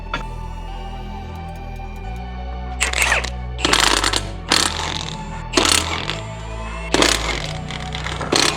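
A hand ratchet on a lug nut as the wheels come off a BMW G20 3 Series, bursts of fast metallic clicking in several separate runs over a low steady background hum, close and loud.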